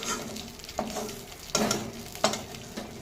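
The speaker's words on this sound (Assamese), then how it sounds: "এইটো চৌতে এতিয়া শাককণ তেল মাৰি পেলাম।" Leafy greens tossed into hot oil in a pan, giving a steady crackling sizzle broken by several sharp bursts as the greens are stirred or turned, close and fairly loud with no talking.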